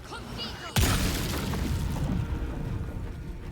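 A sudden loud boom in the Baldur's Gate 3 video game, a sharp blast followed by a rumbling, crackling decay, with faint talk before it.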